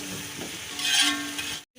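Spice masala for beef keema pulao sizzling as it is stirred and fried in a pan, a short burst of close crackling hiss that swells midway, then cuts out briefly.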